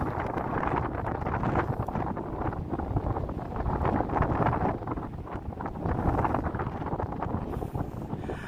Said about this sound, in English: I know the wind is relentless. It had calmed down for a little bit and then Now it's kicking back up.